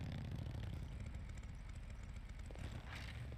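A motorcycle idling in a GTA roleplay game, a steady low rumbling drone that holds evenly throughout, fairly loud and close with no talk over it.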